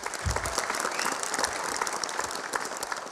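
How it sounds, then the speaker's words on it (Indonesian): Dense audience applause fills a live comedy roast of former Jakarta governor Sutiyoso, steady and loud throughout with no break in the clapping. "Tepuk tangan dulu buat Bapak Sutioso"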